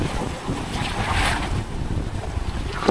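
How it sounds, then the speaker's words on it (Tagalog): Wind buffets the microphone over a steady wash of large ocean waves on a windy beach in Oslob, Cebu, a loud, continuous roar with a brief swell of surf in the middle. "Medyo mahangin ang panahon ngayon. Yan o. Ang laki ng alon."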